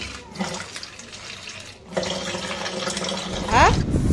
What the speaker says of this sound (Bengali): চালটা ধুয়ে নিয়ে যাচ্ছি।